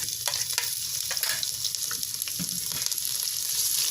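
Onions with ginger garlic paste fry in hot oil for sarson ka saag, a steady, close hiss and crackle with occasional stirring scrapes and clicks from a spoon against the pan.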